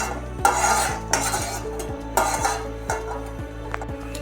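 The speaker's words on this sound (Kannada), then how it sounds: "ಇವೆಲ್ಲವನ್ನು ಕಾದ ಎಣ್ಣೆಗೆ ಹಾಕಿ ಚೆನ್ನಾಗಿ ಹುರಿದುಕೊಳ್ಳಬೇಕು" Bay leaf, cinnamon and cardamom fry in hot oil for paneer gravy while a spoon stirs and scrapes the pan in repeated close knocks and clinks over a soft sizzle, no talking.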